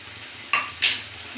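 Fried lentil dumplings (bori) are stirred into pumpkin greens cooking with prawns. Two quick, close scraping strokes of a spoon rise over a soft, low frying hiss.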